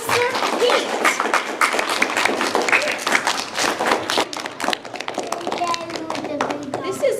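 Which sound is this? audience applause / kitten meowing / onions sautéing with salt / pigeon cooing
audience applause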